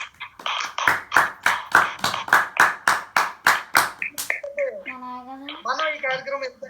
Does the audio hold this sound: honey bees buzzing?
no